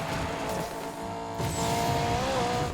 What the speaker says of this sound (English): Brake to drift looks good. It looks very easy to initiate.